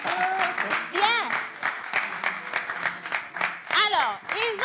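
Studio audience applauding on a French broadcast show, a rippling wash of clapping heard beneath loud, animated voices that speak over it throughout.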